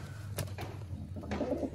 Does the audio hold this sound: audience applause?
no